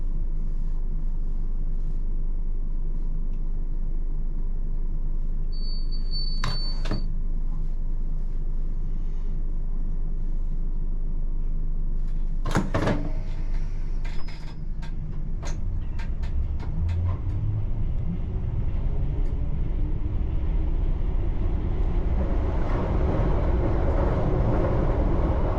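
A London Underground Piccadilly line train at Heathrow Terminal 2/3 gives a steady, loud low rumble and motor hum throughout, with brief screeches and clanks, the noise rising toward the end.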